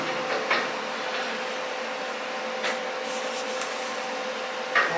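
A passenger handle is welded onto an Intimidator 750 Classic side-by-side, giving a steady close hiss broken by a few faint crackles and pops.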